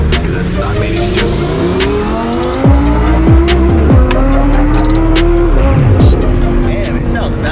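Twin-turbo Lamborghini Huracan STO on its stock exhaust accelerating hard, loud and close, with rising engine notes, abrupt shifts and some tire squeal, while people talk over it.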